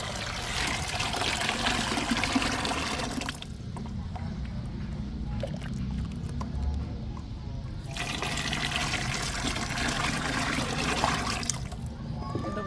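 Muddy water mixed from pure mud strained a second time into a bucket to catch leftover sand and debris, a steady close pour and trickle that swells in two longer bursts with quieter dribbling between.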